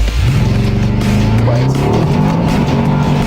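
Jeep SRT8 with twin turbos and over 1000 hp launching hard, its loud roaring engine climbing steadily through the revs while the tires spin, with a faint squeal of wheelspin over a constant, close and powerful drone.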